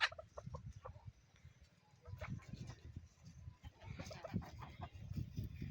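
Country desi chickens clucking and murmuring at a village poultry spot, low continuous fowl sounds with a few sharper calls, fairly faint and close, with some background voice.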